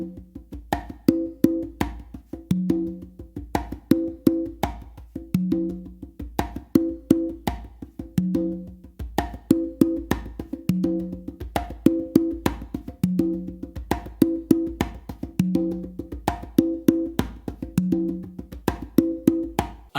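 Congas play a steady funk 3-in-1 pattern, with open tones, slaps and muted strokes repeating in a tight, even groove for the whole stretch, close and dry with no voices.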